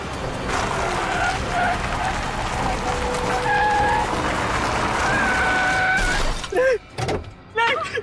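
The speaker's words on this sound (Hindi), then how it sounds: "बहुत कार रेसिंग कर ली, गेम ओवर।" Cars racing in a jungle car chase scene, with a loud, continuous roar of engines, squealing tire skids and a crash-like burst near the end, and voices faintly mixed in.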